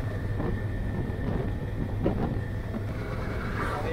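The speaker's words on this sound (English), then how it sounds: "Here's an iron ore train." A long iron ore freight train rumbles past at a distance near Port Hedland, a steady low roar with faint metallic squeals and clanks over it.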